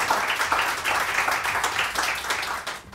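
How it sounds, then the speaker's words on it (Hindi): A studio audience on a morning show applauds a guest, a steady dense wash of clapping at moderate distance that holds evenly for several seconds before starting to thin. "बहुत सारी तालियां सामिया के लिए"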